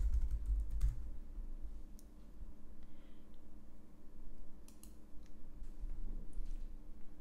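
Computer keyboard typing and mouse clicking while renaming a folder on a desktop, a quiet, soft patter of keystrokes and a few sharper clicks scattered over steady low room hum, with no talking.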